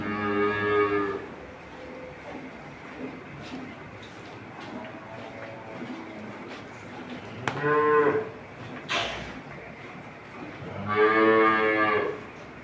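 Holstein Friesian dairy cows moo in several loud, drawn-out calls, one at the start and more near the end, over a steady low farmyard hum with no talk.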